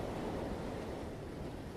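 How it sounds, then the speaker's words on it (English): Big ocean waves surge and crash in a continuous, loud roar of surf with wind noise mixed in, steady throughout with no voices. "They take everything away out to sea, out of sight. The waves."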